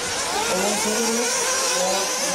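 A racing car engine drones steadily on a track during the 2011 Montpellier GP main final, a continuous mid-pitched roar with shifting tone and no voices over it.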